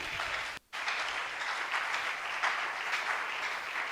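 A church congregation bursts into sustained, dense applause at moderate distance, with a brief pause near the start before the clapping continues steadily.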